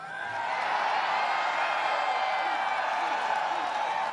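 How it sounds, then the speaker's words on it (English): A large partisan crowd at a Republican rally cheers in a dense, steady roar that holds throughout, broad and sustained with no single voice standing out. "Listen to that crowd"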